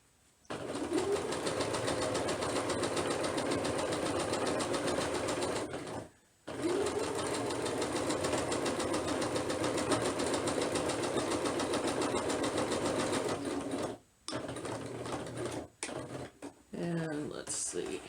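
A sewing machine stitches down an ironing board cover, running in long steady bursts with two short pauses, then stopping and starting in brief stutters near the end, close and loud.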